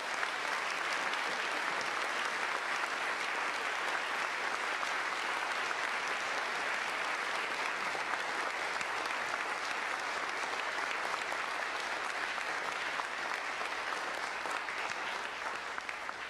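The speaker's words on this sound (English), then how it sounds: "Let's give a round of applause." A large audience applauds after an ecumenical panel on the Reformation commemoration, dense continuous clapping that holds steady and loud for over fifteen seconds, with no talk over it.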